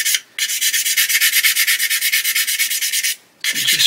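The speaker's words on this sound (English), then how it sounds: "So let's just get a sanding stick" A sanding stick rubs steadily back and forth on a 1/32 scale HKM A-20G Havoc model aircraft bulkhead, giving close, loud rhythmic scraping strokes with two brief pauses.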